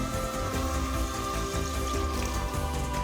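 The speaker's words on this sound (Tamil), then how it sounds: "இப்போ தண்ணி சேர்த்துக்கலாம்." Water pours steadily onto sautéed vegetables in a pressure cooker for vegetable pulao, a continuous close splashing rush with a hum underneath and no voices.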